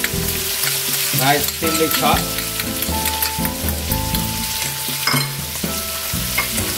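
Chopped pepper and garlic sizzle in oil in a paella pan for paella valenciana, a dense, steady frying crackle close by, with someone talking briefly over it and background music.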